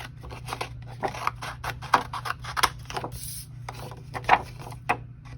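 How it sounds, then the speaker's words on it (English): Scissors snip through paper in a series of crisp, close cuts, each a short rasping slice, spaced irregularly over a steady low hum. "I'm just going to take a scissors"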